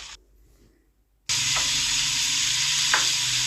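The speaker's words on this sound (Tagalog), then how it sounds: "Medyo naluluto-luto na natin ang ating karne." Meat for Filipino menudo fries loudly in a pan, bursting into a strong continuous sizzle after near silence, with brief scrapes of stirring, close and alone.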